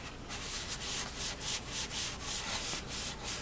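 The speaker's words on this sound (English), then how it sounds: "this is a very fine sanding sponge" A very fine sanding sponge rubs back and forth along the bare wooden neck of an old Kraftsman mandolin, giving soft, close, rhythmic swishing strokes, about six or seven of them, with no talk.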